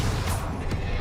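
Confringo and Bombarda spell blasts from Hogwarts Legacy, a dense, loud burst of explosive crashing that fills the whole second with no pause.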